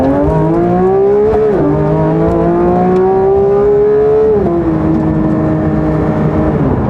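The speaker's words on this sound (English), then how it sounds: "The acceleration on this car, you ready? It's also something special." A 2022 Porsche 911 GT3 accelerating hard, its loud close engine note climbing steadily in pitch, dropping briefly at two gear changes and rising again, with no talk over it.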